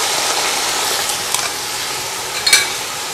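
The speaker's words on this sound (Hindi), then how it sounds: "अब इसी प्याज में हमने गोश्त को भूनना है" Meat fries with onions and garlic in hot oil for a pulao, giving a steady, close sizzle with a few scraping stir clicks.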